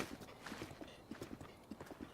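Horses' hooves clip-clop in Zelda: Breath of the Wild, a steady uneven patter of soft thuds with faint game ambience underneath.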